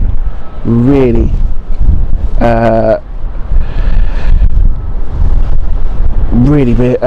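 Strong gusty wind of about 19 to 20 knots batters a microphone outdoors at London City Airport, a loud continuous rumbling roar with a few tonal engine-like swells rising and falling through it.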